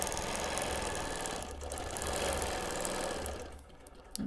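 Free motion quilting a giant rose on a hexie quilt, the sewing machine running in a steady close whir of fast stitching that eases off near the end, with no talking.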